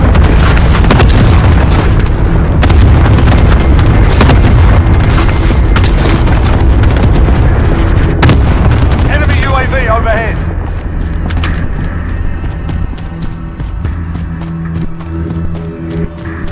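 A weapon is blown up in Call of Duty Warzone, a loud deep explosion with heavy rumbling and crackling debris that slowly fades into lower battlefield noise, with a voice briefly audible in the mix.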